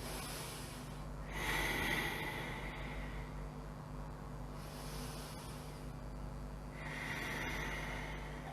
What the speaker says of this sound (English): Deep breaths. Inhales, continuing the length. Exhales, fold.